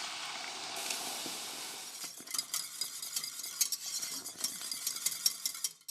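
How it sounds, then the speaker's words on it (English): A whisk scrapes and clinks around a pan as hot milk is stirred into a butter and flour roux, a soft irregular rattle following a faint hiss at the start. "add some hot milk in there and give that a good stir so there are no lumps in the sauce"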